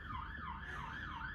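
A fire engine siren wails in a smooth rising-and-falling cycle, repeating about three times, fairly faint and steady with no talk over it.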